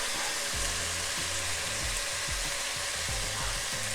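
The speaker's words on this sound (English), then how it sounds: "After that, we're going to add in our beef stock." Beef stock hitting a hot pan, a continuous loud sizzle and hiss with a few low knocks and clatters of cookware underneath.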